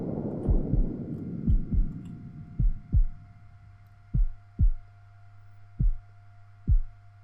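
Heartbeat effect in the video game Unforgiving: A Northern Hymn thumps in slow, heavy paired beats, low and close over a steady hum, with the final pairs spaced farther apart.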